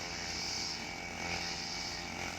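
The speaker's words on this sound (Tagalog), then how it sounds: "grass cutter." A grass cutter runs steadily while clearing overgrown grass beside a house on a farm, giving a continuous buzzing engine whine at moderate distance with no breaks and no voices.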